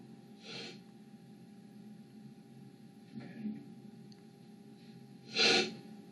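Two sharp nasal sniffs, a few seconds apart: a softer one early on and a louder, breathier one near the end, with quiet near-silence between them.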